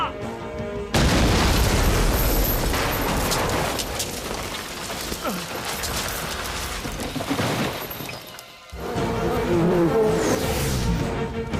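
A loud action-movie explosion from a 2017 Jackie Chan action-adventure comedy hits suddenly. A heavy, rumbling blast follows it with noisy debris, then a brief lull and a second powerful boom.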